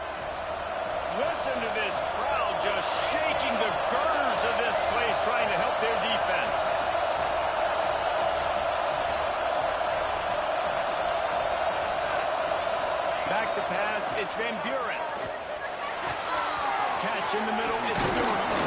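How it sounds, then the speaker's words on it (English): Loud, dense stadium crowd roar in an American football video game fills the whole stretch, a constant wall of cheering with scattered shouts and claps, with talk over the top. "Listen to this crowd just shaking the girders of this place, trying to help their defense."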